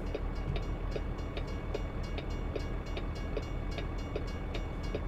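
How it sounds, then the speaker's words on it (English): Train rolling past with rhythmic clickety-clack of wheels over rail joints, a steady rumble throughout with repeated evenly spaced clicks, fairly close and continuous. "I hear a train."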